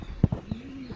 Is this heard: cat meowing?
no